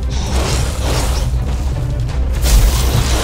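A booming in-game explosion in Resident Evil Re:Verse multiplayer, a loud low-frequency blast that swells near the end over dense, rumbling game noise.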